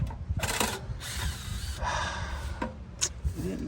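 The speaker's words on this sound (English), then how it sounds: "Pull these last few oil pan bolts out." A power tool spins out the last oil pan bolts on a blown supercharged big-block engine, giving several loud, close whirring bursts of a second or less, separated by brief pauses and clanks.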